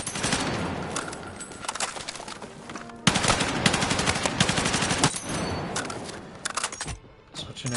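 M277 carbine firing at targets in the Battlefield 6 video game, sustained rapid bursts of loud close gunfire with brief pauses between strings.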